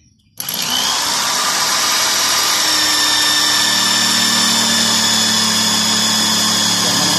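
A kikil cutter, a power tool, grinds a groove under bamboo, starting abruptly after a brief quiet and then holding a loud, steady whine close by, alone without talk.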